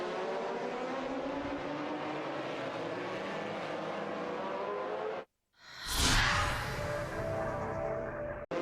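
GT race cars at the Bahrain circuit, led by an Aston Martin DBR9, roar past in a steady distant engine drone that cuts out briefly, then a louder close car whooshes by.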